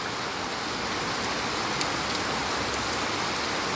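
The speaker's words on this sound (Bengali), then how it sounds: "আওয়াজ হয়তো আপনারা শুনতে পারা বৃষ্টির।" Heavy monsoon downpour in Sylhet pours steadily in a dense, unbroken hiss of drops, close and fairly loud, with no talking over it.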